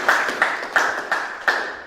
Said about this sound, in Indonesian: tepuk tangan untuk kelompok 28